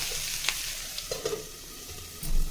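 Pepper curry ingredients sizzle gently in a hot pan, with a few light clinks and scrapes of stirring over the steady frying hiss.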